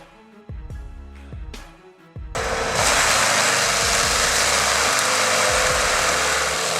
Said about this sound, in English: The AWI M650 mulcher riding on a Fendt 824 doesn't waste time